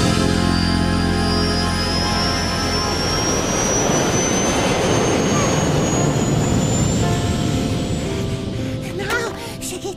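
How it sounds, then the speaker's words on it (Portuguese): A loud jet engine roars continuously with a rising high whine sweeping upward, the rumble steady and close before easing slightly at the end. "O avião pro Japão!"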